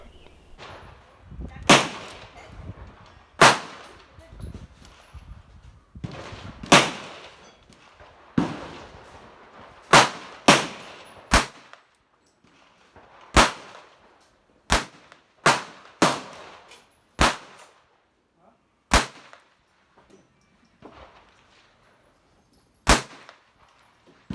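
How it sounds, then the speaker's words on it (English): Ruger SR22 pistol shots fired at an outdoor range, about fifteen sharp, loud cracks spaced irregularly a second or two apart, each with a short echoing tail over quiet background. "First up, we're going to have me shooting the Ruger SR22 pistol."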